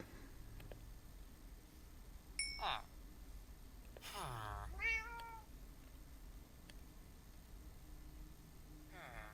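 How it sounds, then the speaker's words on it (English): A cat in the video game Minecraft meows a few times, with short rising cries at moderate volume and a faint clink, over a quiet background hum. "I think this is where I got distracted with the cat."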